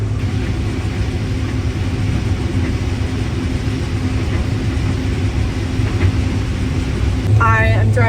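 A combine harvester drives across a field at about five miles an hour while harvesting, its steady, loud engine rumble and low drone continuous throughout, with a brief higher mechanical whine near the end.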